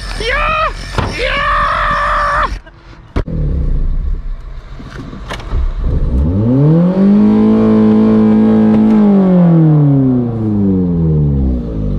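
A Ford car engine revs hard, its pitch sweeping up and falling back in a long loud arc, after a burst of shouting and a few sharp knocks.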